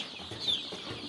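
Young chicks at a poultry farm give a single faint, short cheep over low background noise.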